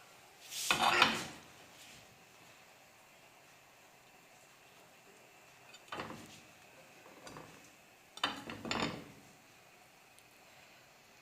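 Food dropped into a cooking pot while preparing the Kabyle dish thahvoult el marqa, heard as a few separate clattering, knocking bursts against the pot with quiet pauses between, close by and with no talking.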